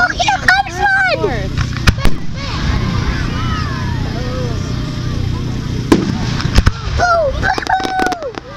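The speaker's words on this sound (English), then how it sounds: "Oh, here comes one!" Several sharp fireworks bangs pop out over a lively outdoor crowd at a Fourth of July show in Newtown, with people talking, cheering and whistling throughout.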